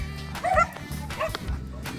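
Several dogs bark and yip excitedly on a neighbourhood walk, with short overlapping barks and whines close by, in quick bursts over a steady low background rumble.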